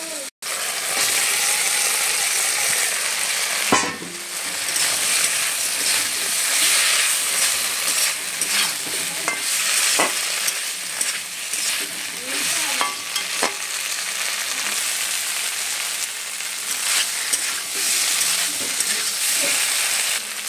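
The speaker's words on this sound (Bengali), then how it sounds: "মশলাটা ভালো করে কষানো হয়ে গেছে, এবারে এর মধ্যে ভেজে রাখা আলু আর ঢেঁড়স দিয়ে দেবো।" Fried potatoes and okra stirred into spice paste in a hot pan give a loud, steady sizzle with scraping stir sounds throughout, no voices.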